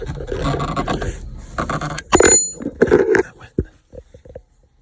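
An 8mm wrench works on the sunroof bolts of a 1984 Porsche 928S, giving close, uneven metallic scrapes, small clicks and a few sharp knocks that taper off toward the end.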